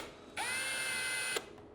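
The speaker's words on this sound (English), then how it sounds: "I just want to make sure that my drill bit is going straight into that hole" A power drill bores a hole during assembly of a 3D-printed telescope tripod, probably into ABS pipe. It sounds as one steady, close whine lasting about a second, starting and stopping abruptly, with no talk.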